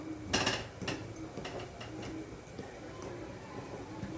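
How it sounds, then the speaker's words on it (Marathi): Green moong flour dry-roasting in a pan over a medium flame, with soft scrapes and light clinks of a spoon against the pan over a low background, faint and close, no talking. "आता हे आपण भाजून घेऊया आणि आपल्याला ते मीडियम फ्लेमवरच भाजून घ्यायचं आहे"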